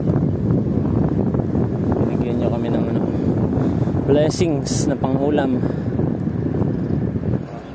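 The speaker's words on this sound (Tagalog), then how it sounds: "Kahit po malakas ang hangin" Steady, heavy wind rumbles and buffets the microphone throughout while a person talks over it.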